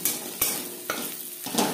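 Onions fried until reddish in hot oil with a pinch of turmeric sizzle steadily while a spatula scrapes and stirs the pan in four or five distinct strokes, close by and with no talking.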